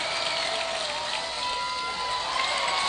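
A crowd at a high school baseball game between the Friendswood Mustangs and College Station cheers and shouts continuously, a dense, bright roar of many voices sustained throughout at fairly even loudness.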